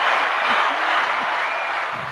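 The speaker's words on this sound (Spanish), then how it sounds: "cuánto aplauso, cuánta euforia por acá" Studio audience applause on a live broadcast program, a steady dense wash of clapping and cheering filling the whole stretch, loud and sustained without pause.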